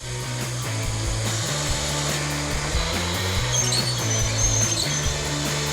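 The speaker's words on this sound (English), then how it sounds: "It's like 150 holes. Better start drilling." Power drill boring holes for a backyard pool safety fence, a steady whining motor that shifts pitch in steps as it bites and eases, continuous and close.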